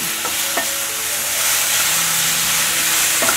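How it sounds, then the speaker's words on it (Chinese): Shiitake mushrooms and tofu are stir-fried in a pan. A constant sizzle sits under a few sharp scrapes of the spatula, close and fairly loud, with no voices. "放入香菇还有豆腐。 继续翻炒，"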